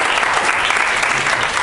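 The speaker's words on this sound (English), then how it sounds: "Round of applause for David, everybody." A workshop audience in Barcelona bursts into steady, dense applause for a participant, many hands clapping together in an even wash of sound that fills the whole moment without pause.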